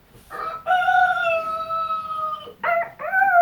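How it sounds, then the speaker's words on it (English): A rooster crows a loud, close cock-a-doodle-doo: a short opening call, then a long sustained note, followed by two quick rising closing notes. "Here's what a rooster sounds like."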